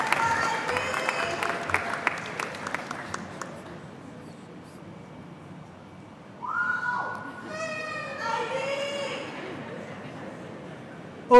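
Brief clapping and cheering from a college convocation crowd fades out over the first few seconds, leaving a quiet hall, then tonal whoops and calls rise near the end.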